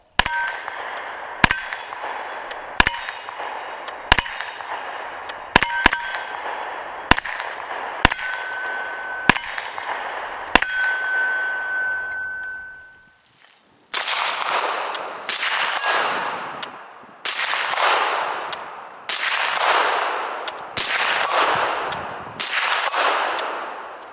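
Taurus CT9 carbine fired at a steel gong about 80 yards away: a string of sharp shots with bright ringing metallic clangs, followed by a denser run of rapid, loud shot-and-ring bursts, with no talking.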